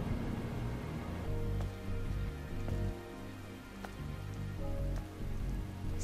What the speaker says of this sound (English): This must be Earth's rain.